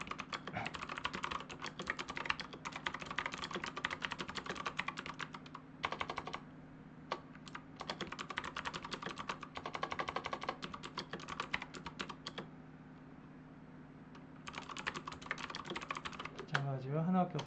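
Rapid typing on a computer keyboard comes in dense bursts of clicky keystrokes with short pauses between them, close and fairly quiet over a low steady hum, with a faint voice now and then underneath.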